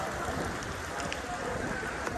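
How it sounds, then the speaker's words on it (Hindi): Steady rain falling outdoors near a causeway, a dense even hiss of drops with no breaks, moderately loud and continuous. "और ये बारिश का सीन आप लोगों को"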